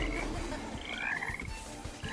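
Frogs croak steadily in a video game, a dense continuous chorus of rhythmic croaks, near and fairly loud with no voices over it.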